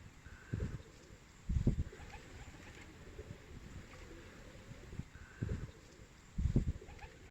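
Pigeons coo inside their loft, soft low throaty calls repeating in pairs at a slow steady rhythm, faint and fairly close over quiet background hiss.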